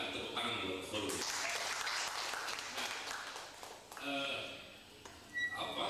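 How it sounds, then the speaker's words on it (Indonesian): Audience applause at an Indonesian labour movement forum, a dense burst of many hands clapping that swells and fades over several seconds, with talk and crowd noise mixed in. "kita tepuk tangan buat forum ini"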